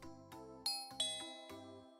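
A doorbell sounds a ding-dong chime: several overlapping bell tones ring out one after another and decay slowly in a quiet room.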